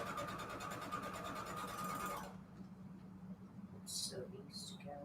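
A sewing machine stitches fabric scraps together in a steady quiet hum for about two seconds, then stops, leaving a soft room tone with a couple of brief rustles.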